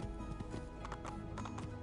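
A horse's hooves clip-clop at a steady trot in the video game Assassin's Creed 2, a quiet, rhythmic patter of hoofbeats set against a soft game background.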